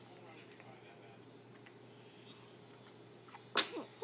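A baby gives a single sharp little sneeze near the end, after a few seconds of quiet room noise with faint soft sounds.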